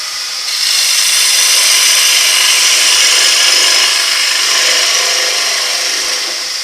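A gouge cuts a wooden bowl spinning on a lathe with its bevel riding the surface, making a steady, loud, hissing shaving sound that holds evenly for several seconds and then eases slightly.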